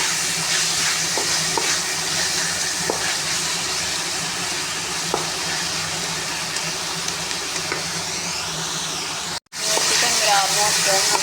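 Chicken for chow mein fries in a pan with a loud, steady, close sizzle and hiss that runs almost unbroken, cutting out for a moment near the end before resuming, with a voice talking over it.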